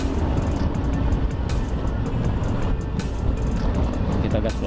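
A Honda Beat FI scooter fitted with a racing exhaust runs at low throttle, giving a steady, continuous engine drone close by without distinct rev peaks.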